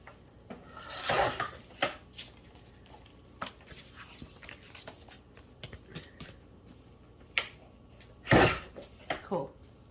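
Paper gift tags are trimmed shorter, giving close, intermittent rasping cuts and scrapes with two louder bursts, mixed with light handling noises and talk.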